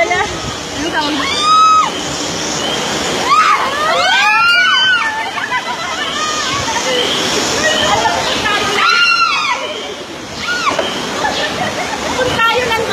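Water crashes and splashes over riders on The Rapids raft ride at Ocean Park Hong Kong, in repeated rushing surges with screams and chatter from the group throughout.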